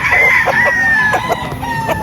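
A gamefowl rooster of the Banahaw line crows nearby on a farm, its long strained call rising and holding over steady farmyard noise, with other fowl clucking faintly in the background.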